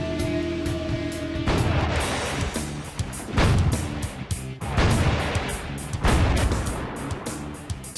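Spray paint cans heated until they burst, giving a series of loud, booming blasts at roughly one- to two-second intervals, each with a sharp onset and rumbling decay, preceded by a brief hissing tone.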